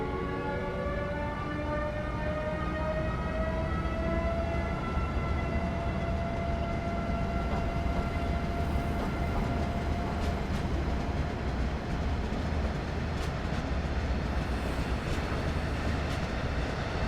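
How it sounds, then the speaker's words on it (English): A train in the Trains Railroad Simulator 2019 game, themed with Thomas the Tank Engine characters, rumbles steadily throughout as a sustained whistle-like tone slowly falls in pitch, with faint rhythmic rail clatter beneath. "using Thomas the Tank Engine characters in Trains Railroad Simulator 2019"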